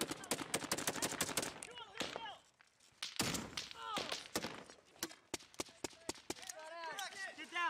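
Combat firefight between US forces and enemy fighters in Afghanistan, with loud bursts of rifle and machine-gun fire cracking irregularly amid shouting soldiers, pausing briefly before more sharp single shots ring out.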